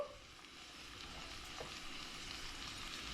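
Butter sizzles in a pan while shepherd's pie leftovers warm, a steady soft hiss that rises slightly and holds, with a faint clink near the middle and no talking.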